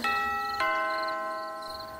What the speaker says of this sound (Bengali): পাশের বাড়িতে কেউ যেন কলিং বেল বাজালো।